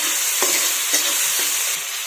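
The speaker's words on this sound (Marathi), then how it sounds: "आता आपण हे टोमॅटो चांगला मऊ होईपर्यंत परतून घेऊयात." Chopped tomatoes sautéing in a pan, a constant loud sizzle broken by a few soft scrapes of stirring, close by with no talk.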